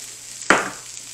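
Beaten eggs seasoned with kosher salt and black pepper hit a hot skillet in a sudden, loud sizzle that quickly fades to a softer, steady hiss.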